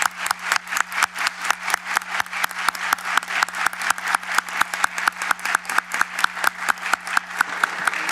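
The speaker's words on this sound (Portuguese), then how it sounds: "eu peço uma salva de palmas no início do seu processo" An audience at a Brazilian bar association (OAB-SP) interview event claps in sustained, even applause, many hands beating in a steady dense rhythm for several seconds with no talk over it.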